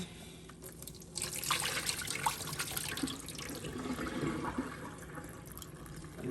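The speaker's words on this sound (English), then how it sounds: "Drain all of that out." Water drains and splashes in a kitchen sink as rinsed shrimp for jerk shrimp in coconut sauce are strained, a close, steady rushing flow that swells after a quiet start.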